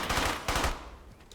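An enemy machine gun fires in the World War II shooter Brothers in Arms: Hell's Highway near a church, in two quick bursts of rapid, rattling shots, fairly quiet and muffled, fading out afterward.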